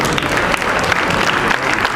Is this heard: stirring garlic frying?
no